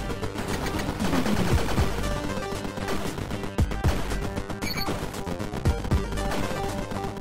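Gunfire from the standard gun in the video game Iron Meat, rapid repeated shots rattling over a dense, loud game soundtrack with explosive bursts, steady throughout.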